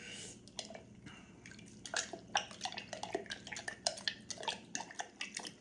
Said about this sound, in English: Take your spoon now. Let's stir that around since we've got the lemon juice in it.